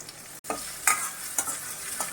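Steady frying hiss of tomatoes sautéing in a pan for bottle gourd and cowpea kulambu, with a few scraping stirs punctuating the sizzle; no talking.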